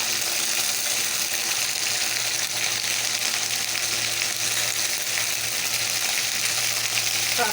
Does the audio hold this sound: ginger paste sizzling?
yes